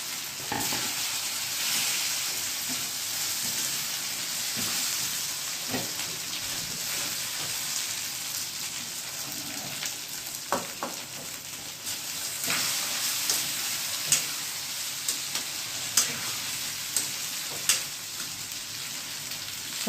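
Loud, continuous sizzling as potatoes go into tomatoes frying in a pan, with scattered clinks and stirring scrapes that grow more frequent toward the end; no talking.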